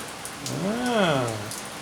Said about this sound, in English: Hopefully it doesn't start completely dumping rain out here.